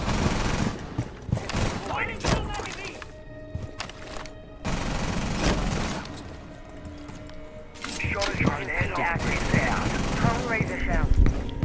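Rainbow Six Siege gunfire: bursts of rapid automatic shots mixed with game effects, coming in scattered clusters under players' voices.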